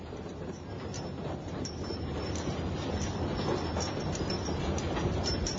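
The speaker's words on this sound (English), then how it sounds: "You can take a pong-pong train from Taiping Billet to Maoxing, recreating the experience of the old lumber industry." A pong-pong lumber train runs between Taiping and Maoxing through cedar and cypress forest, heard as a faint, steady rolling rumble with soft rhythmic clicks of the wheels.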